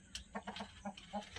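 Rhode Island Red chickens clucking close by in a short series of soft, evenly spaced clucks over faint farmyard background noise.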